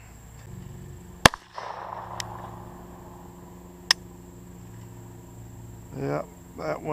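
A G44 rifle with a ProMag 18-round magazine fires one sharp, loud crack, then a second short report after a pause, over a faint background hum; someone speaks briefly near the end.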